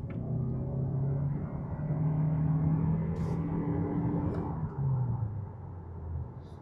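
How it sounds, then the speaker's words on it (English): Cabin of a 2025 Toyota Camry XLE accelerating on the road, with a steady low engine and road rumble that swells slightly as it picks up speed, continuous and moderately loud from inside the car. "let's take this Camry for a ride and talk about the way it drives"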